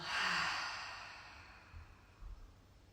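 A deep inhale and exhale during a resting pose at the end of a yoga session: a single soft, airy breath that swells at the start and trails off slowly, close and quiet, with faint low thumps afterward.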